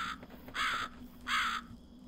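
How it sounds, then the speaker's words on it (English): Two harsh, low-fidelity crow caws in a spooky video game, each about half a second long and evenly spaced, loud over a steady low ambient hum. "That low quality crow sound."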